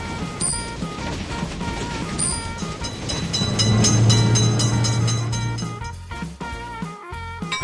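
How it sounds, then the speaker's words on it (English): A train passes a road level crossing with lifting gates, a loud, steady rumble and rattle that swells in the middle and then thins out toward the end. "Attention, train is coming."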